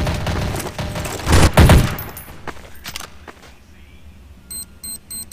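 Gunfire in Counter-Strike: Source on a map called Tides, a loud burst of rapid automatic shots that fades into scattered quieter game sounds and short beeping tones near the end.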